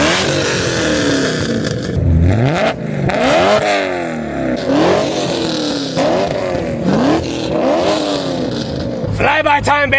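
A Camaro ZL1 with catless long-tube headers, a catless X-pipe and a Valvetronic muffler exhaust revs hard in loud, repeated sweeping bursts, with crackles between pulls and a sharp flurry of rapid pops near the end.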